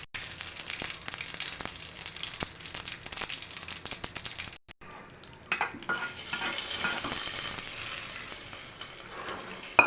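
Mustard seeds and a couple of broken dried chillies tempering in hot oil give a steady close sizzle and crackle that cuts out briefly midway, then returns louder and busier.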